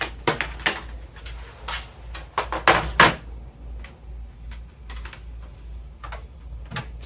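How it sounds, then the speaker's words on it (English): Computer keyboard keys tapped in irregular bursts while setting up an old Gateway PC to enter the BIOS, close and clear with brief pauses between clusters of clicks. "Keyboard, so we can get into the BIOS."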